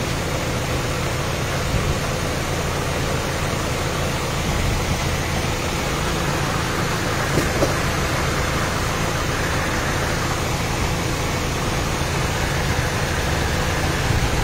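A Mitsubishi Cedia engine idles quietly in a steady, even hum that runs unbroken throughout, with no voices over it.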